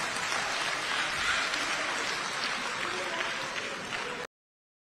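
Audience clapping at a public meeting with South Africa's police minister, a steady, dense burst of applause with some crowd noise that runs for about four seconds, then cuts off abruptly.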